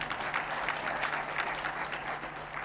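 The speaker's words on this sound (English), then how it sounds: "Don't hesitate to clap for him." Audience clapping at an event, dense continuous applause with a faint steady hum underneath, no voices over it.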